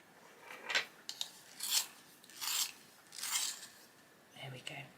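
A violet colored pencil is sharpened by hand, a few short close scraping turns of the blade against the wood, soft and separated by brief pauses.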